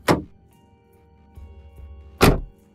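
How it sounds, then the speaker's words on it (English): Back door of a car opening and closing: two solid thunks roughly two seconds apart, the second louder, with a low rumble and faint rustling between them and no voices. "the back door opened and closed"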